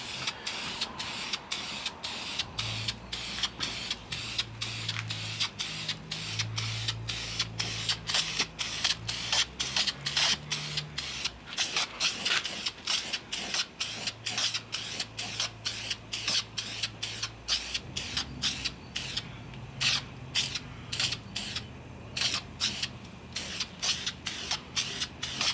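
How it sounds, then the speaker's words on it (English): Wrinkle paint is sprayed onto an SR20DET valve cover in a quick run of short, hissing bursts, each with a sharp start, repeating in an even rhythm close by with no talk. "Applying a pretty light coat just because I don't want to overspray it like I did just before."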